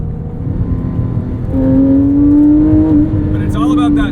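Engine of a 997.1 Porsche 911 GT3 on a canyon road, loud and close from inside the cabin, droning steadily and then rising in pitch as it revs toward the top end, with a clear whine on top.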